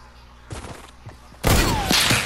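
Gunfire in a shooter video game: a couple of sharp shots early, then a loud sustained burst of rapid fire at close range that fills the rest of the clip.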